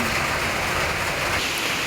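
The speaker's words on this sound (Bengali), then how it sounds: "বৃষ্টি নামছে" Steady rain falls continuously, a dense even hiss at a constant moderate level with no voices or other sounds.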